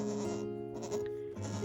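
Goats bleating in a homestead barn, a couple of drawn-out, wavering nasal calls in close succession, fairly quiet and close by.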